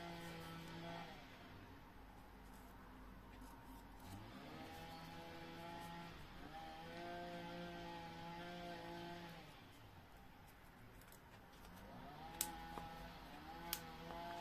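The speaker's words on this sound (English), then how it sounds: "No, that sounds like a lawnmower." A lawnmower engine drones steadily outside, a faint, distant motor hum that rises and falls in pitch as it works, continuous throughout with a couple of small clicks near the end and no talk.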